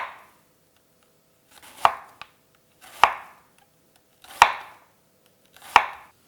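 Red onions are sliced thin with a knife on a cutting board, four or five sharp, evenly spaced chops about a second apart, each with a short rustle before it, close and clear with no talking.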